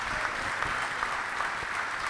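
An audience at a Brazilian political talk applauds with steady, dense clapping throughout, fairly loud and continuous, without any speech.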